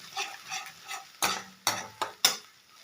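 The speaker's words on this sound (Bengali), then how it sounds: "পোস্তটা দিয়ে পেঁয়াজটার সাথে ভালো করে নেড়ে চেড়ে ভেজে নেব" Poppy seeds being stirred and fried with already-fried onions in a pan for a potol posto dish, with a soft sizzle under several scraping spatula strokes and a few sharper clinks against the pan.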